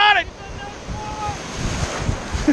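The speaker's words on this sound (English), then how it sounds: "these are huge waves" Large ocean surf breaking near the shore, a rushing wash of water mixed with heavy wind buffeting the microphone, with a brief voice at the start.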